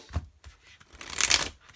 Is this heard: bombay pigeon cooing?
no